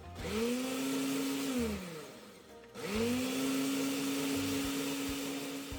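A blender mixing heavy cream powder with water whirs loudly with a steady motor hum, revs down briefly, then spins back up and keeps running.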